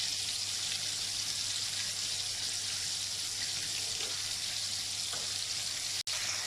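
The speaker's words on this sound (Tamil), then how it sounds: "இப்போ நம்ம வச்சுருக்க புளி கரைசலை இதோட சேர்த்துடலாம்." Steady loud sizzling and hissing as tamarind water is poured into a hot pan of fish curry, continuing without a break and close up.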